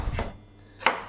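A kitchen knife chops onions for a rabbit tajine, giving two crisp cuts about half a second apart, close and clear with no talking.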